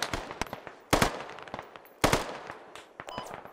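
Gunfire in the game Squad: sharp cracks and short bursts of rifle and machine-gun fire, with two louder close shots standing out among scattered distant pops, no talking.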